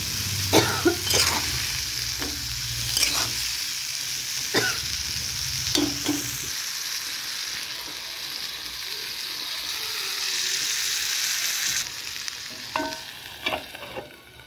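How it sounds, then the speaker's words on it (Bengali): Eggplant stir-fried with spices for a spicy tangra fish curry sizzles steadily and close up. Clattering spatula strokes come in bursts at the start and again near the end, and nobody talks. "বেগুনগুলো দিয়ে আবার ভালো করে এগুলো কষিয়ে নেব।"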